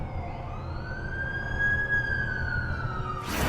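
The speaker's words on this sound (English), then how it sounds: "That's the ambulance I called." Ambulance siren from the video game The Amazing Spider-Man 2, a single rising and falling wail sweeping steadily over low city rumble, loud and fairly close, ending in a burst of noise.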